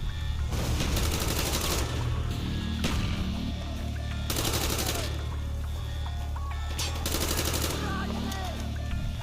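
Gunfire in the Call of Duty: Black Ops campaign mission "Redemption": repeated bursts of automatic weapon fire, loud and close, broken by brief pauses, with game sounds under it.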